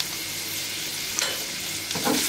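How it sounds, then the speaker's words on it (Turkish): Dry onion sizzles in a little vegetable oil in a pan, a close, steady frying hiss with a couple of brief stirring scrapes near the end. "Bir adet kuru soğanı kavuruyorum."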